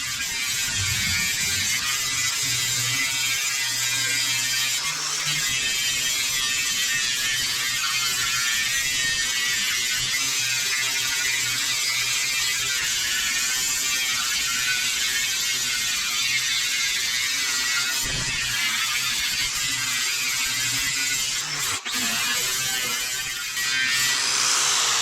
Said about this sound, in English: We'll give that a bit of a sand